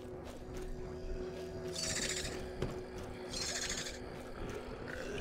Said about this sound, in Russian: Сколько куча птиц этих.